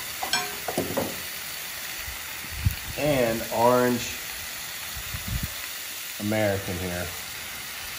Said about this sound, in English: Oh, y'all listen to that sizzle for 1 second.